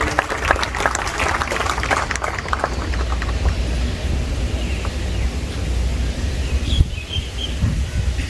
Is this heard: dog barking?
no